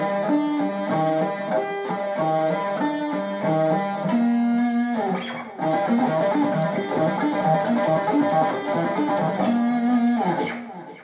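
Slow hybrid-picked guitar arpeggio lick over a love chord, ballad style, with a processed electric tone; sustained notes ring in two phrases with a brief break in the middle, close and steady, without any talking.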